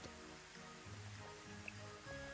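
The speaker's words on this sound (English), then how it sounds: "It's raining again." Steady rain falling in the farming video game Rune Factory 5, a continuous soft hiss of drops under low game music, with no talking.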